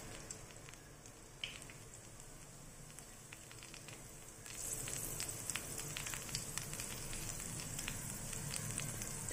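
Cumin seeds sizzle in hot oil in a pan while cluster bean (gawar phali) curry is being cooked, a steady crackling hiss that jumps louder about halfway through, with no talking.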